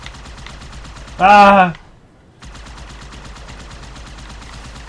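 Turret fire on the Outskirts level of Halo 2 Anniversary co-op on Legendary rattles in rapid continuous bursts and stops briefly after a short shouted exclamation, then starts again.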